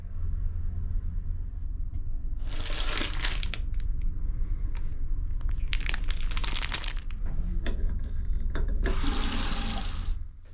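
A sink tap in a cabin bathroom aboard a Manila to Cebu vessel runs in three loud bursts of water gushing into the basin, separated by quieter stretches with handling clatter and a low steady engine hum beneath.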